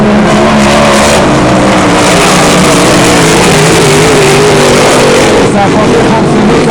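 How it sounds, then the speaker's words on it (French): Hydroplane racing boat engine at the St-Félicien Grand Prix in 2011, likely an eight-cylinder, roaring loud and continuous with a rough, wavering tone that hints at engine trouble, heavy and close throughout. "On aura des problèmes là, du côté de Mike Weber, si on se fie au son du moteur."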